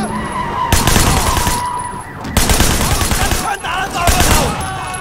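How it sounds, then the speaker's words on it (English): Gunfire from the video game Sleeping Dogs comes in loud, rapid bursts separated by short lulls, crackling automatic shots over background game noise. "Not great at these shooting missions."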